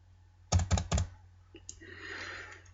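A computer keyboard typing out CSS code, with a quick run of three or four close, crisp key presses followed by a softer, scattered patter of lighter taps trailing off.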